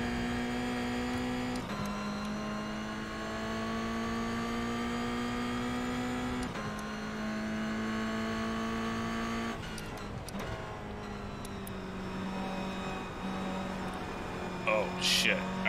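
A Toyota GR86 race car engine in iRacing during rain practice with AI cars, a close steady droning whine that climbs through each gear and drops sharply at the shifts, later easing off, with a voice talking over it.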